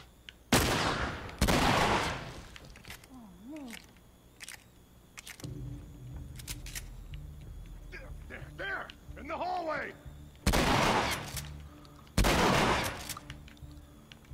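Shotgun blasts in The Last of Us, four loud booming shots in two pairs, one near the start and one near the end, with talking and game noise between them.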